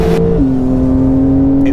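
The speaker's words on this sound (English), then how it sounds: "And it still sounds like a flat six." A Porsche 911 of the 992 generation with a flat-six engine and PDK gearbox holds a steady, smooth engine note after a short shift in pitch, heard close and alone.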